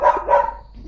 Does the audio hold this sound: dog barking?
yes